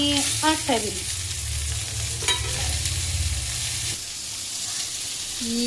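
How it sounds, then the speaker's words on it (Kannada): Garlic, ginger and tomato sizzle with onion in a hot pan, a steady frying hiss with spoon scrapes and stirring, close and fairly loud, with no talking. "ಈಗ ಬೆಳ್ಳುಳ್ಳಿ ಸ್ವಲ್ಪ ಶುಂಠಿ ಟೊಮಟ ಫ್ರೈ ಮಾಡಲಿಕ್ಕೆ ಹಾಕ್ತಾ ಹಾಕ್ತಾಯಿದ್ದೀನಿ"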